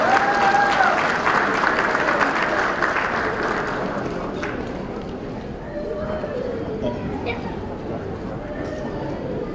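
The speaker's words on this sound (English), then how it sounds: "let's give them a hand of applause." Hearty audience applause at a BCA-USA cultural night for a newly elected board of directors, loud at first and then tapering off, with chatter and voices mixing in as it fades.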